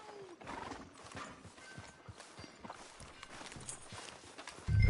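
Horse hooves clip-clop at a walking pace in Red Dead Redemption II, a quiet, fairly close rhythm of hoof strikes, with a brief whinny near the start and a louder thump at the end.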